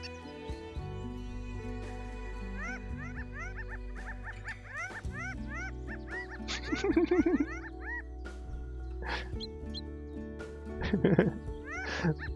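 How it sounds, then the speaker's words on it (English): Bird calls in the Wingspan video game: bright, quickly rising chirps come in repeated flurries, with louder busy bursts near the middle and the end, all layered over continuous background music. "This bird sounds like a party."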